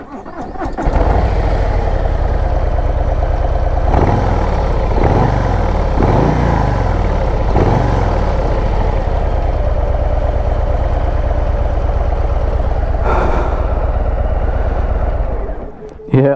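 A Harley-Davidson FXLR ST motorcycle engine starts up close by, with several throttle blips, then settles into a loud, steady, lumpy idle until it cuts off at the end.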